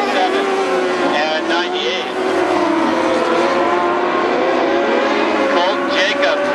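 Dwarf cars race around the Barona Speedway dirt oval in a heat, engines snarling loudly as a pack passes close and one slides into a corner, with a continuous roar of several motors shifting in pitch.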